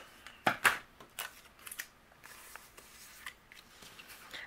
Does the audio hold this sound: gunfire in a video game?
no